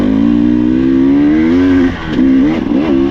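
Husqvarna TE 300 two-stroke dirt bike on a trail ride, its engine buzzing loud and close with a strong steady tone, briefly dipping as the throttle eases, then revving back up in quick surges.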